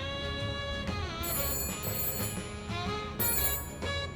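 A telephone rings in the detective video game Shadows of Doubt, its bright, tonal ring repeating in steady pulses that stand alone and close, with no talking.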